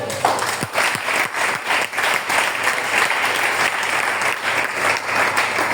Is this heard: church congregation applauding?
yes